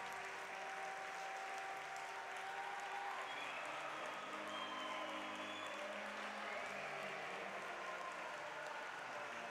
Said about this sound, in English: Charlene Labonte leads Montreal out onto the ice to the thunderous applause of the Brossard crowd.